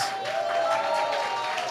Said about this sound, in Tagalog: Naku, parang ang hina naman po ng palakpak